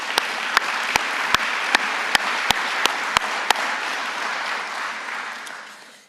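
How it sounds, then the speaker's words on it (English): Conference attendees at an ASA 2025 evening session give a steady round of applause, cut by a string of sharp, regular clicks, before the clapping fades away. "Let's give them a round of applause."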